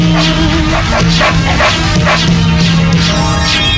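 A hunting dog barks loudly and close in a rapid run of yelping, whining barks, repeated steadily with a sustained tone beneath, in a film scene set in a forest.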